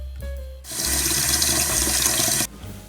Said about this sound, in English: Next, you want to add water to cover your eggs.